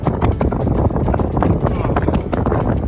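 Strong wind buffets the microphone at the top of the Tybee Island lighthouse, a steady, loud, rumbling roar with gusty flutter throughout.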